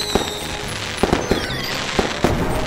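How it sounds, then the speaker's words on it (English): Fireworks grand finale at a show, a rapid series of sharp loud bangs and crackles bursting every fraction of a second over a continuous sizzling roar. "Why are fireworks different colors?"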